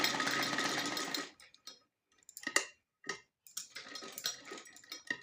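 A sewing machine stitches an old sweater, running fast for about a second before stopping, then a few short bursts and separate ticking mechanical clicks follow, close and moderately loud.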